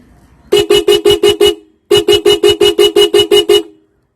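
A Suzuki Access scooter horn running through a 7-in-1 melody maker on fast mode 1 gives loud, sharp, evenly spaced beeps: six quick toots, a short pause, then about ten more in the same fast rhythm, heard alone.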